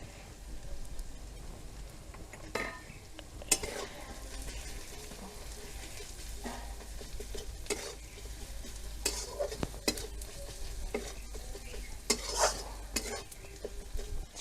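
Cumin, coriander, turmeric and chilli powder cooking in a kadai: a faint, steady sizzle under repeated scraping and stirring knocks of a spatula against the pan, with no one speaking.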